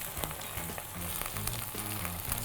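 Tomato paste and hot Urfa pepper paste sautéing in a pan give a steady close hiss of frying, with light taps of a utensil stirring now and then.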